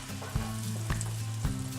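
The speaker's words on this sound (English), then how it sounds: "you really want to saute these onions until they're nice and brown" Diced onions sautéing in a pan, a close, steady crackling sizzle with a few soft stirring knocks and a low hum beneath.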